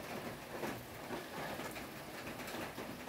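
Rain falls outdoors on a quiet street, a soft, even hiss that stays faint and steady throughout with no voices.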